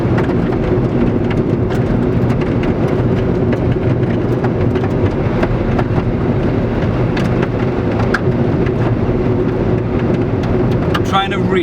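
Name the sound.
bits of desert kicked up underneath a speeding car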